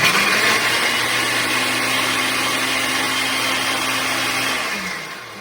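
A blender whirs loudly and steadily as it chops dried tomato halves, with a constant motor hum that winds down at the end.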